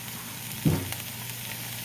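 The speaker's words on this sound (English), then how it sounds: "Now you can hear it sizzling." Hamburger patties sizzle steadily in a hot pan, with a brief louder spatter near the start; no talking, just the constant crackle of frying.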